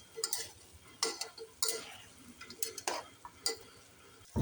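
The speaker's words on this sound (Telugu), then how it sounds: "పసుపు కూడా మటన్కి బాగా పట్టేలా కలుపుకున్నాం" Mutton being mixed with turmeric, salt and ginger-garlic paste in a pot gives a series of scattered scraping and clinking knocks from the spoon against the metal, with a faint sizzle running underneath.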